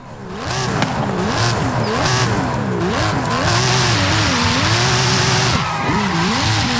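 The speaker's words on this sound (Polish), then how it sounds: "Astony Martiny też to totalnie inny dźwięk" Aston Martin engine in Forza Horizon 5, revving hard and continuously with a wavering pitch that rises and falls, loud and close, with tire squeal mixed in and no talk throughout.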